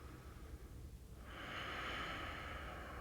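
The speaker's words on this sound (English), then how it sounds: "Ujjayi, or natural breath." Steady, smooth ujjayi breath during a morning vinyasa yoga flow, close and soft, a hushed airy rush that swells and holds evenly through the second half.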